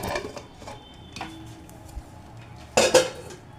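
Metal lid and pot clatter on a stove as the whistle is pulled from a pressure cooker of meat and the lid is opened, with scattered light clinks and a louder double clank near the end.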